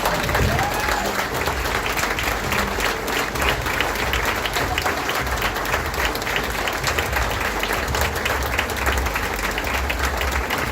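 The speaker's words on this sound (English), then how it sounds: "please stand and applaud them for their service to our country" A dinner crowd stands and applauds military veterans at a homecoming dinner for a veterans' organization. Thick, continuous clapping from a large room holds steady throughout, with a few voices faintly underneath.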